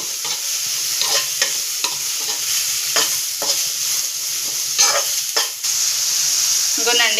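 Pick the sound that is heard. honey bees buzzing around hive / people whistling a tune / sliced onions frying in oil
sliced onions frying in oil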